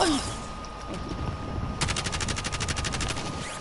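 Rapid automatic gunfire in a PS4 shooter game, a quick regular burst of shots following quieter game noise, fairly close and loud.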